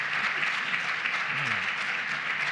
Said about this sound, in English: I would like really to give an applause to him because he deserves it